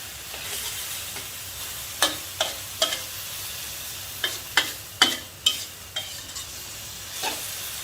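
Enoki mushrooms fry with shrimp paste and minced pork over high heat, giving a constant sizzle broken by sharp scraping clacks from a spatula stirring the pan, in uneven bursts, with no speech.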